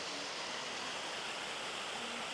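Kondilla Falls waterfall and river give a constant dense roar of rushing water, full and even from start to finish with no voices.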